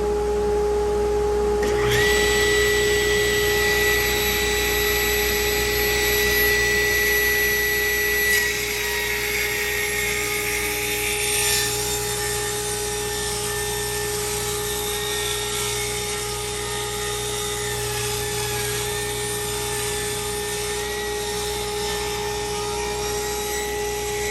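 A Jet ProShop table saw rips through a board of purpleheart wood, its motor whining steadily for over twenty seconds as the blade bites in with a high, shifting tonal screech that eases partway through the cut.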